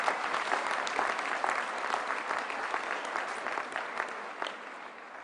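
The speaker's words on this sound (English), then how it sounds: "I think Claire Wilson deserves a round of applause as well" Steady applause from a seated audience at a spring university graduation ceremony, dense and continuous for several seconds at moderate volume before easing slightly near the end.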